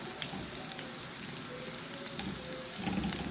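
Garlic and peppers frying together in a pan, a constant hiss of sizzling oil with occasional faint stirring taps, close and steady, with no one speaking.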